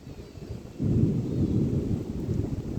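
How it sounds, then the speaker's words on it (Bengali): Thunder rolling over the Shitalakshya river as light rain begins: a low, deep rumble that swells after a quiet start and keeps grumbling steadily to the end, with no voices. "বৃষ্টি শুরু হচ্ছে, মেঘ ডাকছে।"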